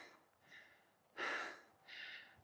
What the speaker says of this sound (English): gonna let my breathing rate recover